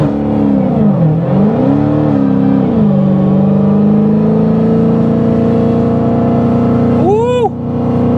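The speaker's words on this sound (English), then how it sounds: "how about a little burnout to get this video started?" A 1957 Plymouth Plaza, a barn find parked for over twenty years, holds a loud, steady engine roar during a burnout, with the pitch dipping and surging early before settling into a sustained high rev, and a brief squeal near the end.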